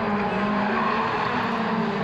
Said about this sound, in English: Good scrap with the Clio 3s as well.